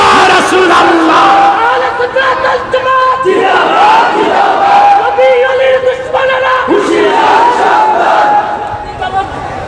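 A large crowd at an Eid religious sermon gathering roars a takbir chant in unison, loud and sustained, rising in repeated swells of massed voices.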